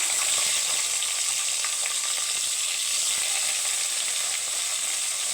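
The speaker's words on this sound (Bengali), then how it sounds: "টমেটোটাকে আমি একটু হালকা ভেজে নেব" Chopped tomato fries in a pan with black cumin seasoning for a vegetarian curry, producing a loud, dense, continuous sizzle with faint clicking stirs, close up and with no voices.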